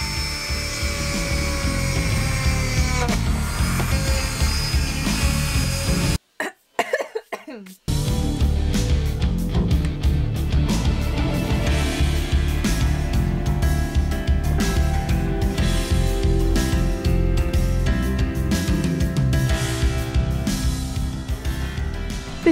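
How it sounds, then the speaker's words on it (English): A high, whirring Dremel rotary tool drills holes into conkers in bursts with a short pause partway through, running loudly under a speaking voice. "all I did was drill a hole in the top"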